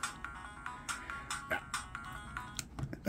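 Music from a Sega Genesis game plays too slow on an AtGames portable console, coming through as thin, slightly sluggish tinny beeping notes at low volume, with no voices.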